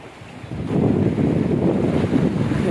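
Sea waves break against breakwater rocks on the Karnataka coast between Murudeswar and Udupi, a continuous low surging roar that builds after the first half-second, with wind buffeting the microphone.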